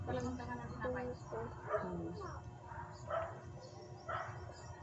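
Small dogs yip and bark in short bursts, fairly quiet and a little distant, amid background clatter and murmuring.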